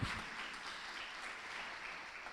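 A church congregation applauds with a dense, steady wash of clapping that stays even for a couple of seconds, heard from within the room at moderate volume.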